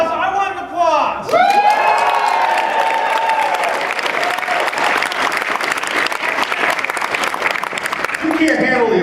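Loud applause with cheering and whoops from a crowd at a gaming convention panel, PAX East 2013, sustained for several seconds after a brief shout.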